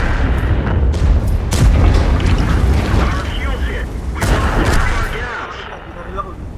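Tank cannon fire and explosions from the World of Tanks video game, with heavy booming blasts repeating over several seconds amid continuous rumbling battle noise, while players talk over the action.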